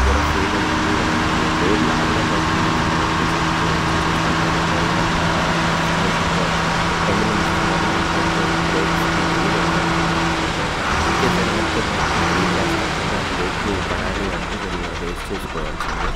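An old, loaded lorry with a failed top gear runs with a constant, rumbling, close engine hum, steady for most of the clip before shifting slightly near the end, while someone talks throughout.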